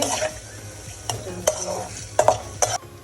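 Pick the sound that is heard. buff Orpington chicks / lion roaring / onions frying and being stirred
onions frying and being stirred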